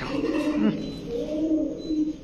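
Pigeons coo in low, rounded phrases at a bird market selling fancy breeds such as Pakistani teddy, kamargar, golla and giribaz; the cooing repeats steadily and fairly close, with no talk.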